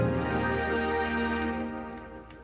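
One sustained piano chord with its top note played softer, ringing out fully and slowly fading over a couple of seconds, close and clear with nothing else sounding.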